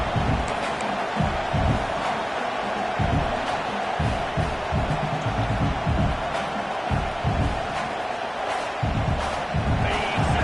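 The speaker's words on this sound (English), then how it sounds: "And the crowd coming to life here, trying to help this defense down in the red zone" A college football stadium crowd roars and cheers steadily as the home defense digs in near its own goal line, a dense, sustained wash of many voices with rhythmic low thumps throughout.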